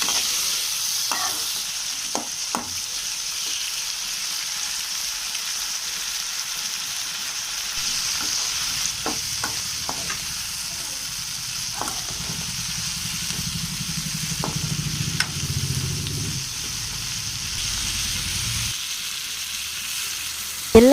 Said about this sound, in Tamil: அதையும் சேர்த்து பச்சை வாசனை போகிற வரைக்கும் நல்லா வதக்கிக்கோங்க.